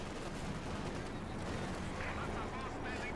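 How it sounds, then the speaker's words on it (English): In a WWII strategy game match, Katyusha rocket artillery fires as a rumbling barrage of blasts and bursts under a commentator's continuous talk. "We've got Katyusha fire here"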